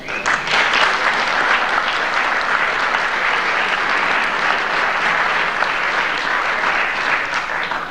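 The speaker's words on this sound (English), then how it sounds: "I'd like to give them a big round of applause" Sustained applause from an audience at a high school fall sports awards night, loud and dense throughout with no break, a steady wash of many hands clapping together.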